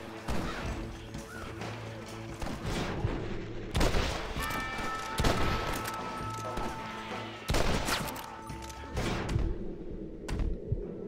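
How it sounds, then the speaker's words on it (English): Gunfire in the game Red Dead Redemption, including a four-round rifle: several sharp, loud shots and crashes spaced irregularly over a busy background of game noise. "Entre disparos."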